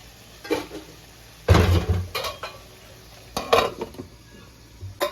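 Pot of stuffed brinjal curry being covered with a lid, giving several distinct metallic clanks and knocks of varying loudness separated by short pauses, close by with no talk.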